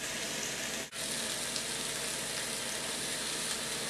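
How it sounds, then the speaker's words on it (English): Pork chops searing in a hot pan give a steady, dense sizzle that runs unbroken except for one brief dip, close and moderately loud with no talking. "We'll flip it over, sear it again on the other side for 3 more minutes"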